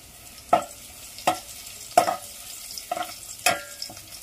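Curry leaves and garlic in hot oil for a spicy Konkan fish curry, heard as five sharp crackling bursts and stirring clatters spaced about a second apart over a faint quiet background.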